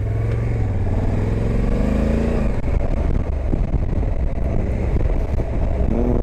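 A 2025 Honda Africa Twin DCT motorcycle engine revs up loudly and close, pitch climbing as it accelerates, then settles into a rough steady drone.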